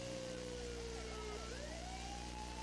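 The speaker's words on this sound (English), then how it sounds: "Sirens are coming here, Lowe." A police siren wails and rises in pitch over a steady engine drone, loud and continuous throughout.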